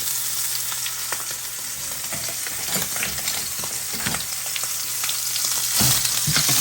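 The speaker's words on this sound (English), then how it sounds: "I'm gonna give it a nice good crust on it." Already cooked sous-vide pork tenderloin searing in a pan for a crust, a constant close, bright sizzle with occasional crackles and pops and no talk.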